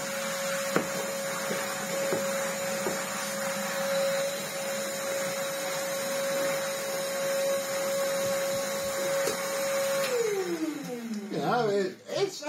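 A vacuum cleaner runs steadily with its original floor head, a constant motor whine with a steady tone that drops and fades near the end as it winds down, with a voice talking over it.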